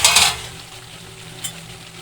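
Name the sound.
eggplant frying in a pan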